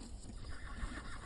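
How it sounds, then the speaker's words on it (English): A horse, an old mare pulling a borrowed cart, whinnies loudly once while hooves clop underneath, with no voices over it. "I borrowed a horse cart, and Aunt Judith let me use the horse"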